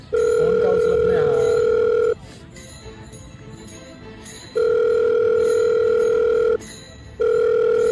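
An unanswered phone call rings on the line as a repeating electronic ringback tone, with long buzzing bursts separated by short silent gaps, close and clear, and a faint voice briefly at the start.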